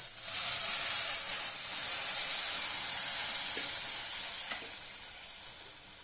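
A ground chili, coriander, pepper and cumin spice paste hits a hot pan for fish curry, giving a loud, steady sizzle that swells after a moment and holds with faint stirring clicks, no voices.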